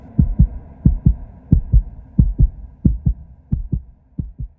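A pounding heartbeat, loud and close, thumping in quick lub-dub pairs that repeat steadily about every half second, with no other sound over it.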